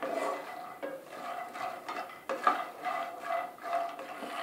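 Makhana (fox nuts) being stirred and dry-roasted in a pan for a Janmashtami prasad, a soft continuous scraping and rustling of light puffed seeds with faint utensil clinks, quiet and fairly close, with no voices.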